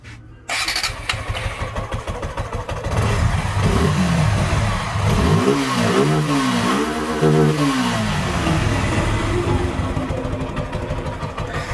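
A Suzuki Gixxer FI ABS naked motorcycle engine cranks and catches, then idles roughly before being revved up and down several times, loud and close, during fuel pump repair.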